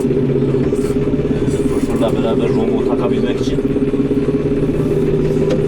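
A tractor engine runs steadily with a hitch attached, ahead of spreading base fertilizer on farm fields, giving a continuous close low idle hum under someone talking.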